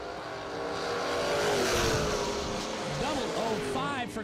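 Drag race cars in the right lane accelerate hard down the strip, a loud continuous engine roar with rising revving tones near the end, under steady track announcer talk.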